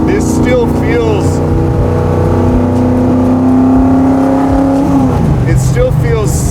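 A 1967 Ford FIA Fastback Mustang engine drones steadily while driving, loud and close, with a pitch shift as the revs change near the end; people talk over the engine throughout.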